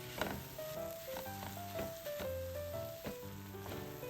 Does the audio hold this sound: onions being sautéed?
yes